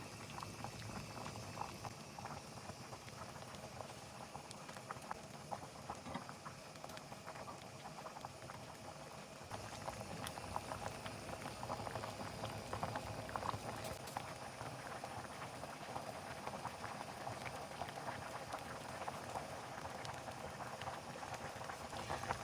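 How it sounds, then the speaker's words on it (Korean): Pollock stew, dongtae jjigae, bubbles steadily in a pot, a soft continuous boiling patter and fizz, close and fairly quiet, with no talking. "아주 아이고 세상에 맛있게 잘 끓고 있어요"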